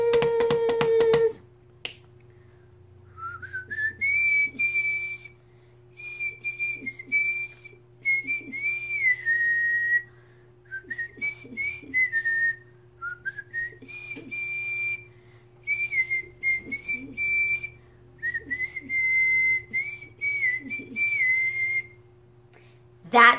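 A clear, close tooth whistle carries a melody in short phrases, the pitch sliding and wavering, broken by brief pauses and faint clicks.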